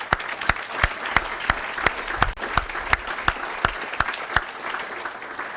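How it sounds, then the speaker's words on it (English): An audience at an award event applauds its sponsors, a loud, even wash of clapping with a few sharp individual claps standing out, continuous throughout. "Let's give them a round of applause."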